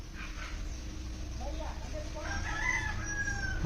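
A rooster crows from somewhere away at midday, a drawn-out, rising call near the end, while someone talks over a steady outdoor background.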